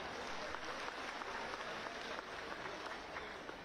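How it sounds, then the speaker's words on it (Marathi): Crowd claps steadily for the woman village sarpanch at a public ceremony at the Savitribai Phule memorial in Naigaon, a sustained, somewhat distant wash of applause. "एकदा जोरदार टाळी त्यांच्यासाठी"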